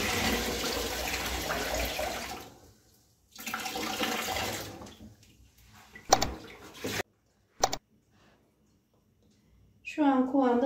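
Leftover whey drained from homemade village cheese is poured out in bursts of splashing, running water, with pauses and short spills between, fairly close.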